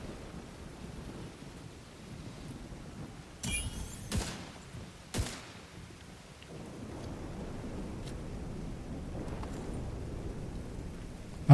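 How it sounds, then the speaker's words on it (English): Steady rain with thunder in a shooter video game, a continuous wash of rainfall broken by a few sharp, loud thunder cracks and rumbles near the middle, with no voices. "Rain's really being annoying."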